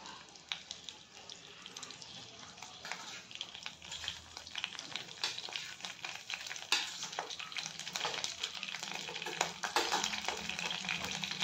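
Mustard seeds and cumin spluttering and popping in hot oil, a dense steady sizzle with scattered sharp crackles and stirring, close and fairly loud throughout with no talk.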